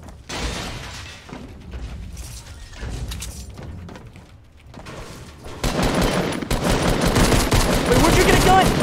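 Rapid video game gunfire rattles in bursts, growing louder and denser toward the end as automatic fire takes over.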